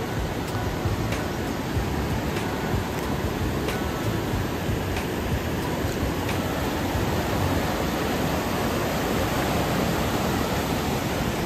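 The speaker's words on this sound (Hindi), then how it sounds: "पानी की काफ़ी आवाज़ आ रही है ना" Loud, constant rushing water near Manali, likely a mountain river or stream, roars as dense broadband noise throughout, close and unbroken with no voices.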